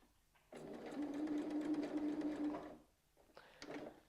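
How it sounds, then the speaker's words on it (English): A quilting sewing machine runs in place for about two seconds, a steady close whir of rapid stitches, then stops and gives one brief second burst. "we're going to do a few stitches on the spot just to secure that stitch"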